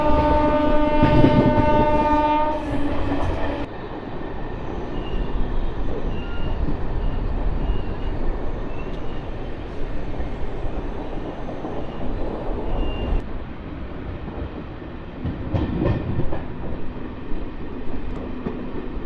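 MEMU express train running toward Vizianagaram, its carriages rumbling and rattling steadily over the rails with a loud, continuous roar, opening with a strong tonal horn-like blast in the first few seconds.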